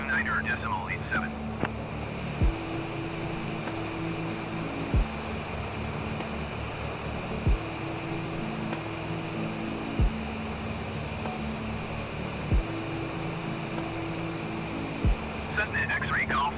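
A Cessna's engine in Microsoft Flight Simulator holds a steady, loud droning hum from start to finish, with evenly spaced low tonal steps shifting every few seconds underneath.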